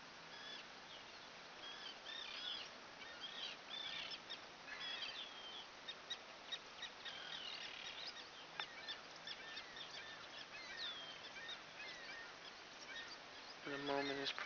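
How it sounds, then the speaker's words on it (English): Morning birdsong at a shoreline near piers, docks and beaches, with scattered chirps and calls over a steady low ambient wash. The birds sound fairly distant and soft, and a closer low sound rises at the very end. "The birds are rejoicing."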